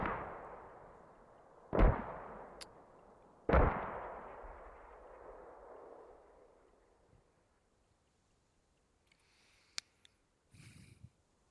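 Two heavy grenade blasts in a tactical shooter game during a defense training match, each a loud booming crack with a long rumbling decay, spaced about two seconds apart, followed by a few faint distant pops.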